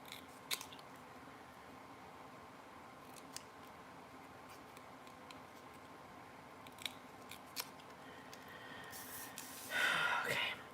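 Scissors fussy-cut a stamped paper tree, making quiet, sparse snips spaced irregularly, then a brief cluster of closer, brighter cuts and paper rustle near the end.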